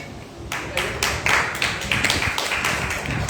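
Children and a teacher clapping together at a school prize announcement, a fast ragged burst of hand claps starting abruptly and continuing steadily, close and fairly loud.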